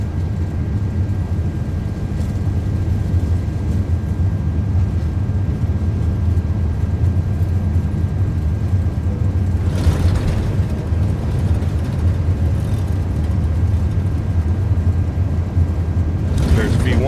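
Deep, steady roar of the GE engines on an iniBuilds A330-300 during a takeoff roll in Microsoft Flight Simulator 2024, a constant low rumble under a voice, with brief bursts of cockpit sound.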